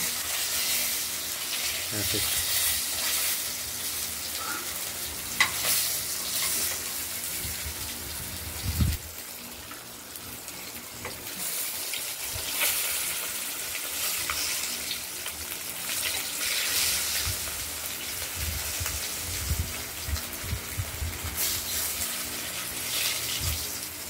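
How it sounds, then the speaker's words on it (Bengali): Katla fish pieces frying in oil give a steady, hissing sizzle close by, with occasional clatters and faint voices now and then. "মাছগুলো ভাজা হয়ে গেছে।"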